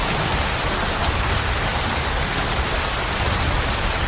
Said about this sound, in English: came the rain.